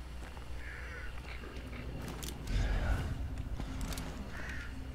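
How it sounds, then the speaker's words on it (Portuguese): Harsh crow caws ring out a few times over a steady low rumble of game ambience in Hunt: Showdown, with a brief louder thump midway. "Meu Deus, esses corvos vão voar"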